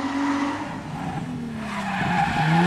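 A car skidding and spinning out at a drift event, tires squealing with a wavering engine whine, sustained and fairly loud throughout.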